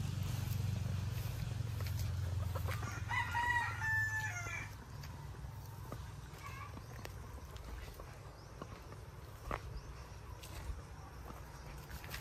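Roosters crow loudly around an egg layer farm building housing laying hens after a typhoon, with a steady low rumble beneath, scattered clucking and a few footsteps.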